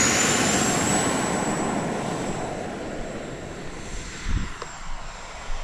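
An FMS F-86 radio-controlled model jet flying its maiden flight, with a loud ducted-fan roar and a thin high whine that slowly fade as it passes into the distance, followed by a few faint thumps.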